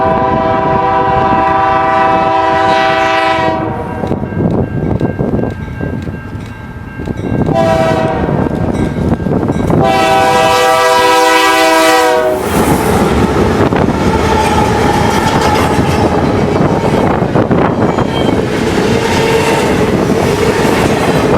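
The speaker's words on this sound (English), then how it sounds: "A over-under meet takes place as a westbound CN train exits Kirk Yard and a CSX intermodal flies" A westbound CN freight leaves Kirk Yard as an eastbound CSX intermodal with BNSF locomotives passes over or under it on Chicago's East Side, both loud and close. Long chorded horn blasts sound twice over heavy rumble and rolling wheel clatter.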